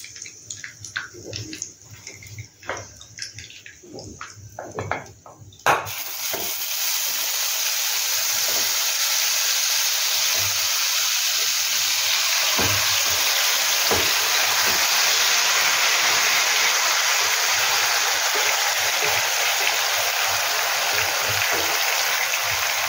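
Cauliflower florets dropped into hot ghee and oil, starting with light clinks and taps before a sudden loud sizzle that stays as a steady, close hiss of frying for the rest of the time, with no talking.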